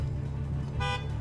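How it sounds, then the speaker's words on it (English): A single short car horn beep sounds from a car waiting at traffic lights, a bright clear toot lasting a fraction of a second over the low, steady hum of the idling car interior. "I'm just gonna do a little beep for this one."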